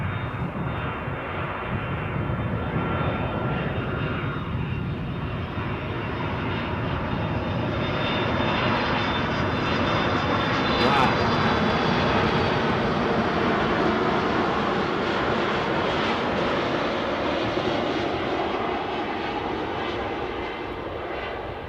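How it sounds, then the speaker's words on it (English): Jet engines on a Boeing 767 at Edinburgh airport roar loud and continuous through a shotgun microphone, swelling slightly toward the middle with a distinct whining tone over the broad rumble. "the notes of that 767, let's just turn the shotgun back up, pretty distinct"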